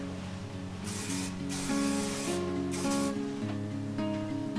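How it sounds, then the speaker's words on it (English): Hairspray hisses out in a few long bursts of varying length while setting loose curls, over a steady background of music, close and fairly loud. "you're going to want to definitely make sure you spray this part"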